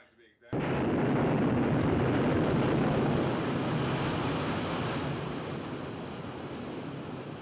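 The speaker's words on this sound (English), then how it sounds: "And these waves don't bother you, huh?" Ocean waves in the 1972 film The Poseidon Adventure: after a brief quiet moment a huge wave crashes in abruptly, then a loud sustained roar of churning water slowly eases off.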